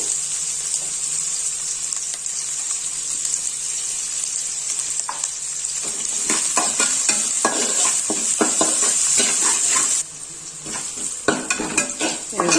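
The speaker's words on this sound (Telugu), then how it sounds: "బాగా కలుపుకుంటూ వేయించుకోవాలి ఇదిగోండి ఆనియన్స్ వేయినాయి కదా" Salted sliced onions sizzle steadily in a hot pan, joined after a few seconds by repeated scraping stir strokes from a spoon against the metal, with the frying hiss continuous and close throughout.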